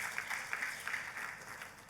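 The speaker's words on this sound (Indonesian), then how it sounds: "Tepuk tangannya yang paling meriah buat Tuhan kita." Church congregation applauding, a steady patter of many hands clapping in a short burst at moderate volume, with faint room echo.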